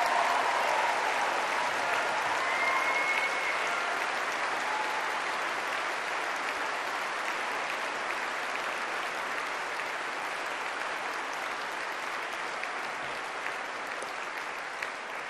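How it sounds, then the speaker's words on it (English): A graduation ceremony audience at NTU claps in a long, steady round of applause that fills the hall at an even level throughout, with no voices standing out. "But give yourselves and your families one last round of applause."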